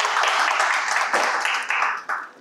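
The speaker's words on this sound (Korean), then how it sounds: "박수로 맞이해 주세요." An audience at a Korean public science lecture on satellites and remote sensing applauds to welcome the speaker, a dense, steady burst of clapping that fades out in uneven steps.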